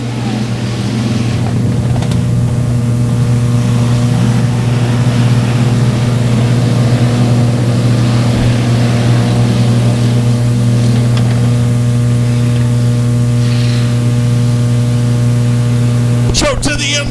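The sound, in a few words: factory stock race cars racing at a speedway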